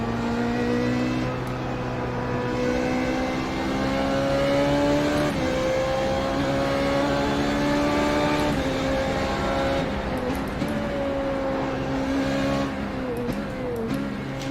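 Formula Renault 3.5 race car in the iRacing sim, engine droning steadily at high revs through a flying lap, pitch dipping and climbing with gear changes and braking for a chicane, loud and continuous with no talk.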